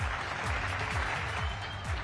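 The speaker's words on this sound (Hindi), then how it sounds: "जोरदार तालियों के साथ स्वागत करें" Crowd applause at a political rally in Uttar Pradesh during the 2022 election campaign, a dense steady wash of clapping with a low rumbling hum beneath.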